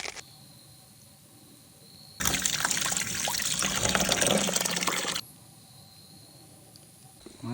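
Tap water runs in a steady splashing stream over noodles being rinsed at a campsite water station for a few seconds, then stops, close by, with a quiet outdoor background before and after.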